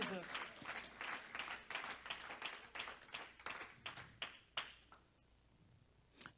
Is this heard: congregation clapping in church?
yes